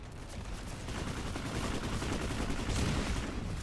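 Heavy gunfire from shotguns and other weapons in a large PlanetSide 2 battle on the Esamir map, a dense, continuous barrage of overlapping shots that swells louder toward the end, with no voices.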